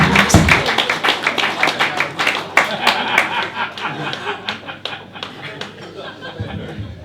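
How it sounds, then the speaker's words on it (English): An evening audience in a brewery applauds after a magic trick, with dense, steady clapping and scattered chuckles. The applause starts loud and gradually thins out. "You should now receive a well-deserved round of applause."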